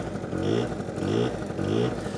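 A 1981 Honda Stream 50 tilting scooter's small engine runs, giving a quiet buzzing putter that swells gently in three regular pulses.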